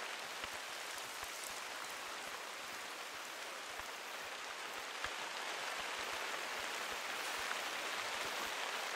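Steady rain falls in the hunting video game The Hunter, a dense even hiss of drops with faint scattered patters, quiet and continuous with no voices.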